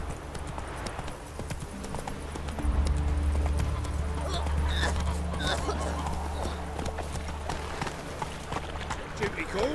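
Roach, the horse in The Witcher 3, galloping fast and close, rapid drumming hoofbeats over a low rumbling game score with a voice speaking over it.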